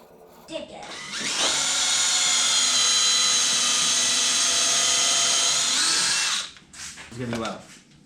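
A power drill drilling into wood whines steadily at close range for about five seconds, with brief handling noise before and after.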